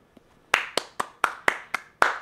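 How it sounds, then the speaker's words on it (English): Seven sharp hand claps, close and distinct, delivered in a fairly even rhythm of roughly two to three per second after a faint tap, in an otherwise quiet indoor space. "Claps for Bella's taste in movies"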